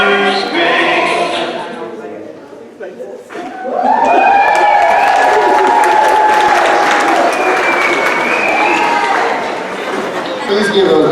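A school audience claps and cheers for kindergarten graduates at their promotion ceremony. A broad, sustained round of applause swells from about four seconds and holds to the end, with crowd chatter mixed in. Singing and voices come before it.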